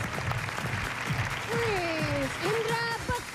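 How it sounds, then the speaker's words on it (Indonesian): Studio audience applause on a TV dating show, a continuous patter of clapping with people talking over it and gliding music tones. "Ya sudah, tepuk tangan dulu dong"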